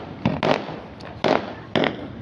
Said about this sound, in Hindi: आतिशबाजी हो रही है शायद दूसरी जगह पर